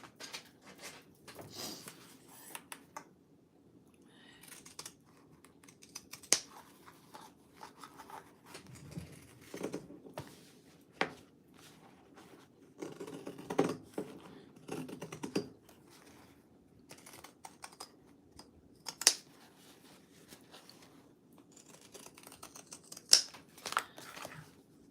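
Scissors snip around the freshly sewn seam of a fabric bag, giving irregular crisp cuts and rustles of cloth, close and moderately quiet, with no one talking.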